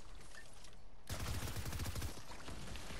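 A rapid burst of gunfire from the Fortnite video game during a duos match, dense repeated shots for about a second, fairly quiet and without talk over it.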